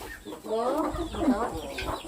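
Close, raspy quacks from ducks kept in a pen, a few uneven calls tumbling over one another in a short cluster.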